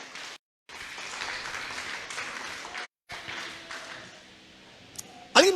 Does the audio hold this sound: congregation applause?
yes